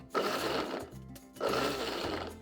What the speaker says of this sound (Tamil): இதை நாம் மிக்சி ஜாருக்கு மாற்றிக்கலாம் பல்ஸில் தான் வச்சு எடுக்க போகிறோம்